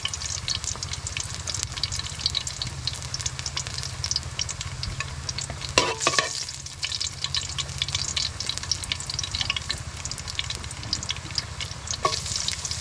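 Sliced mushrooms frying in a pan until golden brown, giving a steady, dense close sizzle that runs continuously, with a few brief utensil clacks partway through and no talking.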